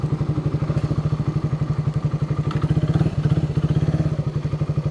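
Motorcycle ridden at night, a loud, steady rapid engine putter with a rhythmic low thump and light rattle, continuous and close throughout.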